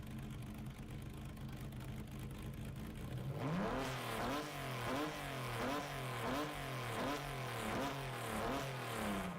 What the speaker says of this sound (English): This has got a naturally aspirated RB26.